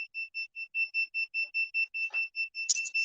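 Steady, high-pitched electronic beeping from the buzzer on an Arduino multifunction shield, repeating in quick even pulses with a bright harmonic overtone, clear and alone.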